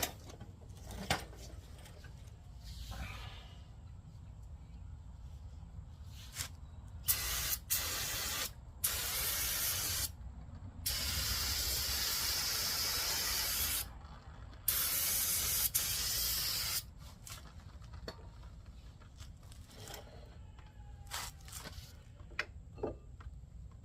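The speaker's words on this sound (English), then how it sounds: "Oh, that looks all oily. Spray that up." Several loud hissing bursts of an aerosol spray onto oily Ford Focus engine parts, each lasting a second or two, with quieter pauses and faint background noise between them.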